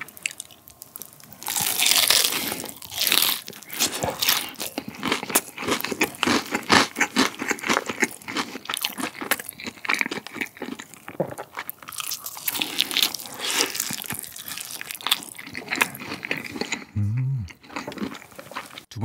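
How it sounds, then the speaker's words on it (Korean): Close, loud crunching bites and chewing of zero-sugar seasoned fried chicken, repeated crisp crackles throughout, with no talking. "좀 더 먹어볼게요."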